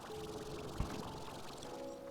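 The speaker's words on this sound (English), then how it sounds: "I do think I hear water running." Running water inside the video game Slime Rancher gives a soft, steady trickling wash with faint tonal hums, plus one brief low thump partway through, quiet and continuous with no speech.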